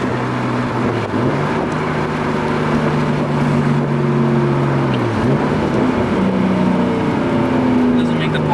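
Fully built Nissan R34 Skyline cruising at 80 mph, a loud sustained engine drone and road roar heard from inside the car, with pitch shifting slightly as it holds speed and voices talking over it.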